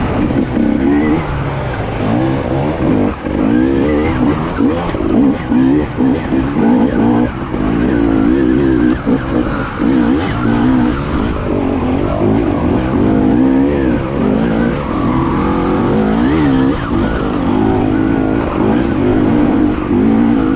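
A KTM TPI two-stroke motorcycle fitted with an injector relocation kit rides on a test run, its engine revving up and down loudly and repeatedly over constant wind and road noise.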